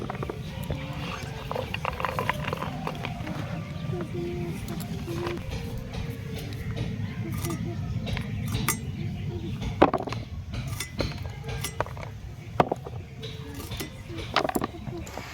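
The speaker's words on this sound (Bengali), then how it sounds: "মূলোটা কেটে নিচ্ছি।" Radish being cut with a knife for a winter-vegetable chorchori: irregular close knife taps and clinks against a board over a low background rumble, with a couple of sharper chops near the end.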